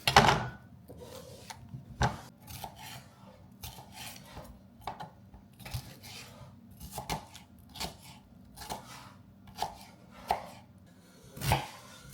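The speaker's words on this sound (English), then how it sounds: "I'm gonna chop all of this up." A knife chops vegetables on a cutting board in sharp, irregular knocks, some quick bursts and some spaced out, close and clear with little else around.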